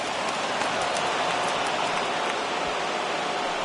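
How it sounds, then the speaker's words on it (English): Steady rain falls on a baseball stadium in MLB The Show 21, a continuous even hiss with faint scattered drop patter and no break across the stretch. "we've mentioned the conditions aren't ideal with the rain coming down"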